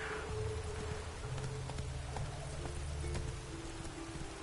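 Horse hooves clip-clop at a steady trot in The Witcher 3 video game, a continuous rhythmic patter over a low rumbling ambient bed and faint music, moderately loud and unaccompanied by speech.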